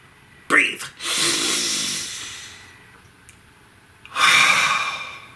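A deep breathing exercise: a sharp inhale, then a long drawn-out exhale, then another strong breath, close to the microphone and with no speech.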